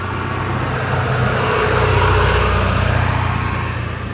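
A small truck drives past on a street in a small town, its engine rumble swelling loud and close at the midpoint and then easing off, with a steady low hum throughout.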